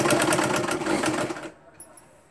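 A sewing machine hums in a quick, steady run while stitching a nighty gown, then stops abruptly, leaving a quiet room.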